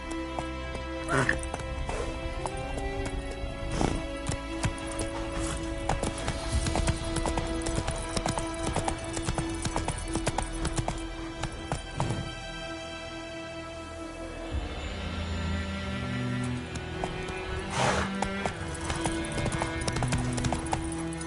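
Horse hooves clip-clop steadily in The Witcher 3, a continuous rhythmic trot up close under a layer of game music, with a voice speaking over it now and then.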